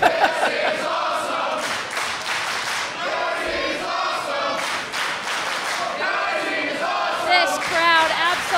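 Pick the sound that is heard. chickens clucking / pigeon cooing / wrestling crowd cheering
wrestling crowd cheering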